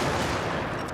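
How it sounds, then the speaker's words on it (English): A single heavy, loud blast from the Breaker shotgun in a video game, fired close and standing alone for about a second. "The breaker's an excellent shotgun with unstoppable rounds,"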